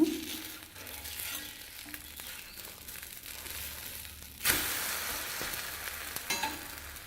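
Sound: dosa sizzling in sesame oil on a pan

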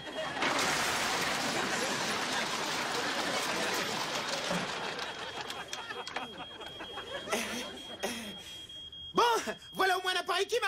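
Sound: alarm sounding

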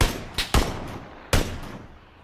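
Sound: gunfire in a video game, silencer questioned

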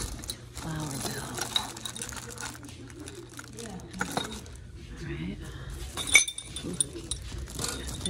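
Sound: small decorative bells clinking

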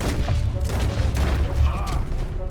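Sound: gunfire in the video game Red Dead Redemption 2

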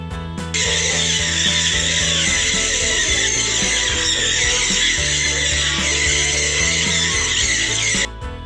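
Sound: Jenday conure parrots calling loudly in a flock

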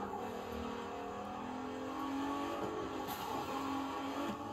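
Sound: car driving on mountain S-turns in video game The Crew 2

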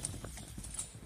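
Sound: horse hooves clip-clopping

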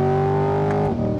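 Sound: 2020 Chevrolet Corvette engine with dual-clutch gear shift

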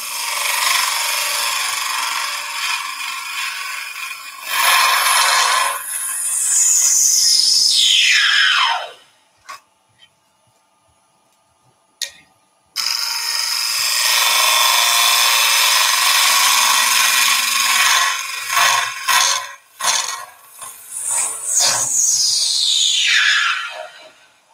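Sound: woodturning a twig and Ecopoxy bowl with a 1/4 inch gouge

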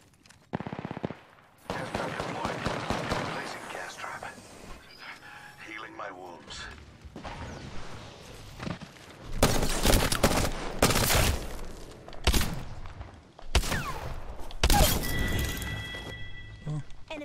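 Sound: gunfire from the video game Apex Legends

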